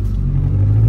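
A car engine revs steadily as a novice driver accelerates over sandy ground, a low continuous rumble held loud and close throughout with no talk over it.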